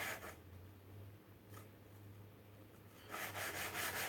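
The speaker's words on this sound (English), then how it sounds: "this is the life of a knife maker. It's hand sanding," Hand sanding a knife blade in a knife maker's workshop, quiet rubbing strokes of abrasive on steel, a few brief scrapes early on, then a louder stretch of sanding near the end over a low steady hum.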